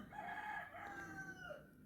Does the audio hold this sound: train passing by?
no